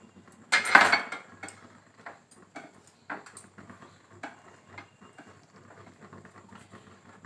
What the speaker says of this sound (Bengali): এবার আমি এটাকে ভালো করে মাখবো।